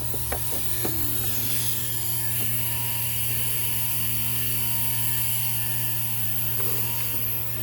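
A socket ratchet turns on the water pump of a 2000 Jeep Grand Cherokee 4.0, giving a few sharp clicks near the start and again later over a steady, loud mechanical hum.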